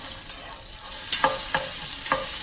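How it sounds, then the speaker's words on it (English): Tomato paste and garlic sizzle in a pan while a spoon stirs them, with a steady frying hiss broken by several sharp scraping strokes close by and no talking. "you're gonna go ahead and stir up your tomato paste with your garlic"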